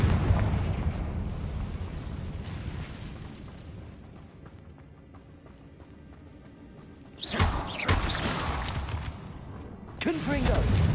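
Confringo blasting spell explosions in Hogwarts Legacy, with a rumbling burst at the start and two sharp, loud blasts later, each followed by crackling debris, against a low ambient bed.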